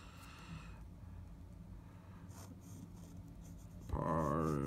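A Parker 45 fountain pen writes on paper with a soft, continuous scratch, quiet and close, before a louder voice cuts in near the end.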